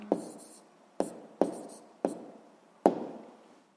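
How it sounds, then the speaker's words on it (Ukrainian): Pen or chalk strokes writing the answer to a sixth-grade math equation with ordinary fractions, five sharp close taps at uneven intervals, each fading quickly in a quiet room. "записуємо тоді відповідь"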